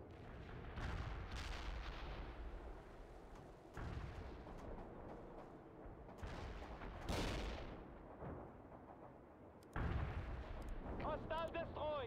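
Gunfire and heavy artillery from the World in Conflict Soviet Assault battle game: booming explosions and rattling shots roll on continuously for about twelve seconds, with voices mixed into the din.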